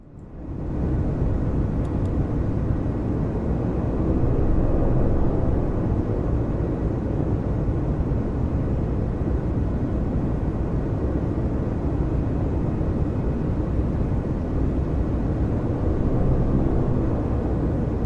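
A steady, loud drone of a light aircraft engine climbing under increased throttle in Microsoft Flight Simulator 2024 runs unbroken for the whole stretch, broadband and rumbling, with no voices over it.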